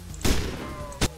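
Two sharp gunshots from a SCAR rifle in a Roblox zombie game, spaced under a second apart, loud and close with short decays.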